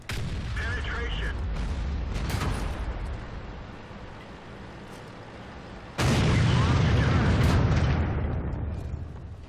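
A tank destroyer's gun firing in World of Tanks gameplay, two heavy booming shots several seconds apart with rumbling decay, loud and close, with a voice speaking between them.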